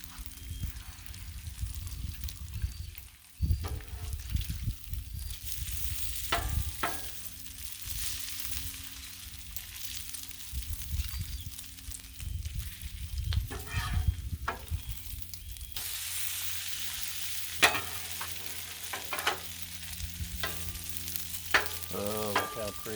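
Bacon frying on a flat griddle, a continuous close sizzle and crackle with brief scraping and shifting sounds from turning the strips.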